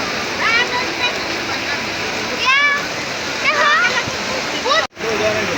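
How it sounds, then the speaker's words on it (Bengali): Heavy rain falls by a river bank near a boat landing and a tea stall, a close, steady wash of water with voices and chirpy calls over it. "প্রচুর পরিমাণ বৃষ্টি হচ্ছে"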